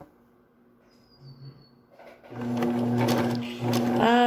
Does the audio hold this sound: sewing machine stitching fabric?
yes